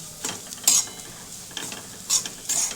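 Kachori is stirred quickly in a pan over raised heat, producing scattered, brief scraping and clinking strokes at an irregular pace, moderately close with a quiet background.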